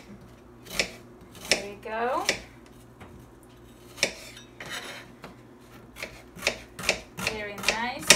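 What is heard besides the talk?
cutting an onion with a knife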